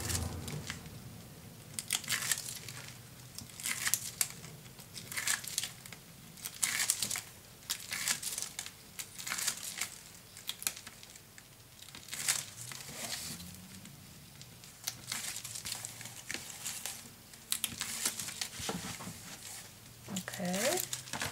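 Tape is peeled off laminate sheets for a handmade mini album, giving repeated crinkly crackling and tearing bursts at close range over about twenty seconds.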